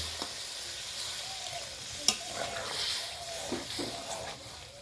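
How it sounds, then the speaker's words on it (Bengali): A pan of vegetable gravy with added water sizzles and bubbles steadily as it starts to boil, with faint scraping and one sharp clink midway. "গ্রেভি ফুটতে শুরু করেছে"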